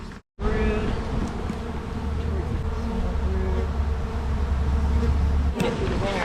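Honeybees buzz densely around an open beehive during a hive inspection, a close, continuous droning hum that fills the clip after a brief gap at the start.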